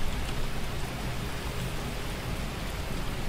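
Heavy rain falls outside a house in a video game, a loud, even wash of noise that holds steady throughout with no voices.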